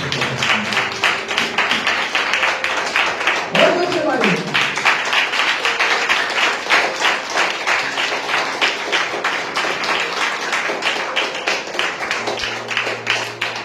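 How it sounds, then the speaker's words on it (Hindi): A church congregation at a Hindi Sunday sermon claps hard in a steady, rhythmic beat that runs the whole stretch, while a voice speaks over the clapping. "जोरदार ताली मार के पढ़ें।"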